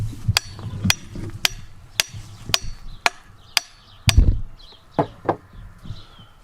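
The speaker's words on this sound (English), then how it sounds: "The weight of the handle and the inertia of whacking it will drive the head on." A wooden splitting maul handle is whacked repeatedly to drive the steel head on, giving about a dozen sharp, evenly spaced knocks at close range.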